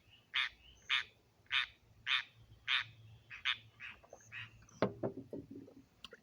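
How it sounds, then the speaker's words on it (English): Frogs croaking outdoors at night, a regular series of loud pulsed calls about every half second, then a cluster of quicker croaks, with a low steady background hum. "Excuse the frogs in the background."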